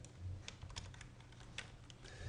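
Typing on a computer keyboard while writing R code in RStudio, a quiet run of soft, irregular key clicks close to the listener with no talking.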